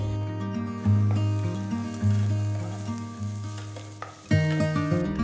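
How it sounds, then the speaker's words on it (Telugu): Chopped green chillies and ginger fry in hot oil for a vegetable samosa filling, sizzling steadily and close up, with occasional stirring. "తరిగిన మూడు పచ్చిమిరపకాయలు వేసి వేయించాలి ఇప్పుడు ఒక టీ స్పూన్ అంత తరిగిన అల్లం వేసి"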